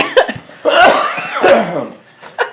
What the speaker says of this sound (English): it's funny when you fucking cough